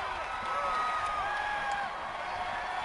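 A happy crowd cheers along the streets at the Cardinals victory parade, a steady wash of voices and whoops with a few whistles rising above it, fairly distant and continuous.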